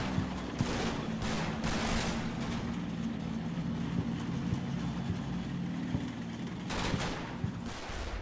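Sustained gunfire exchange in the WWII strategy game Combat Mission: Battle for Normandy, with dense overlapping rifle and machine-gun bursts under a continuous rumbling battle din, loud throughout with no talking.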